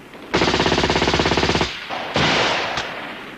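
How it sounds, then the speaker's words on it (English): Rapid burst of war-film gunfire from a mixed force of tanks and infantry: a loud, evenly pulsed automatic stream running over a second, then a pause and a second heavy blast that rings out with a short crack at its tail. "they've been fired on by a mixed force of tanks and infantry"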